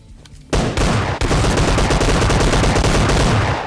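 Rapid gunfire in a solo-versus-squad battle royale video game: after a brief quiet start, a loud, dense, continuous burst of shots cracks out close by and keeps going to the end.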